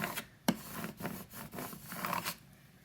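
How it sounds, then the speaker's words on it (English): Cricut vinyl is scraped onto transfer tape with a tool: repeated short rubbing, rasping strokes at an uneven rhythm, close and quiet, with no voices. "When you scrape it, make sure that you scrape it well so that the vinyl comes onto the transfer tape and comes off of the backing."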